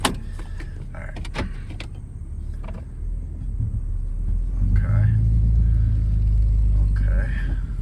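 Broken-down car idling with a low engine rumble that swells as it starts to roll and pull away, with mechanical clicks and clunks early on.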